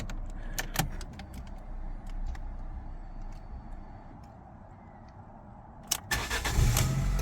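A car is started with a cloned duplicate key in the ignition. Faint key and cabin handling noises are followed near the end by the engine cranking, which catches into a louder, rumbling idle.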